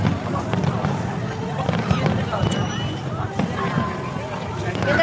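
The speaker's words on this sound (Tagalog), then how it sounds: "May fireworks, guys. Ang ganda ng fireworks." Fireworks go off at a New Year celebration at Global Village in Dubai, heard as a dense, continuous crackle and rumble with scattered pops. Crowd babble and people talking run throughout.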